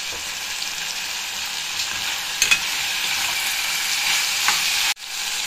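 Ivy gourd (dondakaya) frying in hot oil for a chutney gives a steady, close sizzle with a couple of sharp stirring clicks midway and a brief drop near the end, with no voices.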